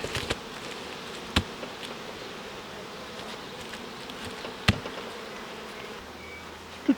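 Honey bees at an alpine-style hive being closed after honey supers are added give a dense, continuous buzzing swarm hum close to the mic. A few sharp knocks of hive parts come through the buzzing.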